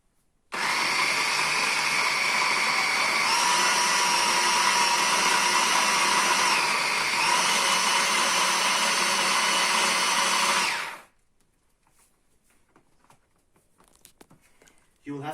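A food processor runs loud and steady for about ten seconds chopping herbs for Bajan fish cakes, its motor whine shifting pitch slightly as the load changes, then cuts off into quiet room sound.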